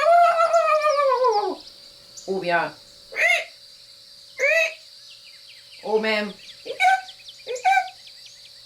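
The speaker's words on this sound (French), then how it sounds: "ce n'est pas le seul son des hiboux et des chouettes" Owl calls other than a hoot, a string of about seven short, harmonic, screechy cries that rise and fall, heard fairly close with a few brief French words spoken among them.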